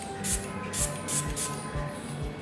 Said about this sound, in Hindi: अब इसकी स्प्रेयर क्वालिटी देख लेते हैं स्प्रे करके।